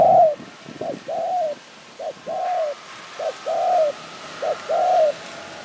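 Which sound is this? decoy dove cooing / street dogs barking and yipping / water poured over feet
decoy dove cooing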